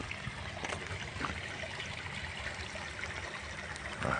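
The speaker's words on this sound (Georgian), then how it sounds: "წყალი მოჩუხჩუხებს" Floodwater trickles and babbles along a rain-flooded street in Didi Dighomi, a steady faint wash of running water throughout.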